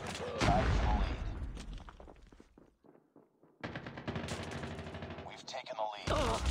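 Video game gunfire from Call of Duty Mobile comes in loud automatic bursts, with a brief lull in the middle before heavy firing resumes, and game voices speak between the shots.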